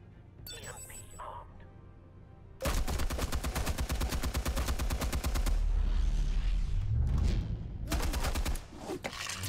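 AK-47 gunfire in Batman: The Telltale Series, a long loud automatic burst of rapid evenly spaced shots that begins after a quieter opening and runs several seconds, with heavy low booms and other game noise.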